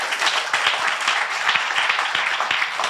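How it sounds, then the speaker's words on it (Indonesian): Crowd applause in a church service, a dense and steady burst of many hands clapping throughout, fairly close and full. "kita beri tepuk tangan dulu buat mereka yang di depan"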